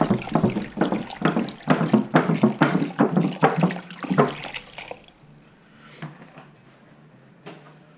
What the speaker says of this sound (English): So I start by putting the water inside the cavity of the bird.